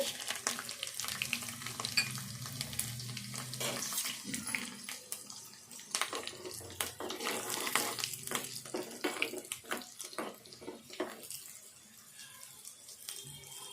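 Garlic frying in hot oil with mustard seeds, cumin and dried red chillies for a Telugu brinjal pachi pulusu, a steady crackling sizzle with scattered pops and spatters, fairly close, no talking.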